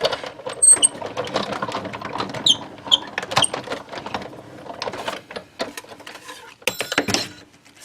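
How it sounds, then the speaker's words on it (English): A die cut machine cuts paper pieces for a candy cane sleigh craft, giving a quiet run of irregular clicks, ratcheting taps and mechanical rattles at close range, with no talking. "run that back through your die cut machine"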